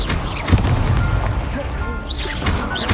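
A fiery Incendio spell is cast in Hogwarts Legacy, giving a loud, booming burst near the start amid continuous dense game effects, with a few whooshing sweeps later on.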